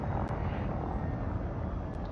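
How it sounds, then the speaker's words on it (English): A spaceship in the video game Elite Dangerous rumbles through takeoff with a broad, steady engine roar, a dense low drone that holds evenly throughout with no voices over it. "And now we're going to take off."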